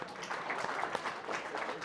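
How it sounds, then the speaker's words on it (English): An audience at a real estate town hall bursts into a steady round of clapping, a dense, even patter of many hands that holds at a moderate level throughout with no voices over it. "Everyone, round of applause for Joe again."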